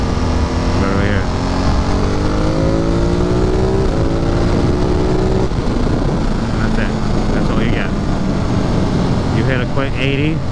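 A powerful motorcycle accelerating hard on a road near a forest, its engine loud and close as the pitch climbs steadily through the gears, then settling into a rough, rushing drone with wind noise.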